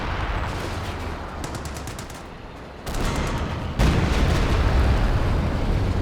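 Howitzer artillery fire in Company of Heroes 2: a dense, loud wash of battlefield gunfire and explosions that grows louder in two steps, with a heavy boom marking the second rise.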